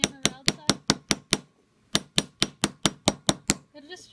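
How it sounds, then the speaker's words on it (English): A round hammer strikes a copper bezel in a fast, even series of sharp, ringing metallic taps, close and loud. A short pause splits the run, and the series ends with a faint scrape. "And then we'll go back with our round hammer, or our utility hammer."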